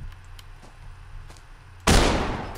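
A single loud gunshot blasts out from the video game Day One: Garry's Incident, sudden and close, after a quiet stretch of low background hum, its broadband report ringing off over the final second.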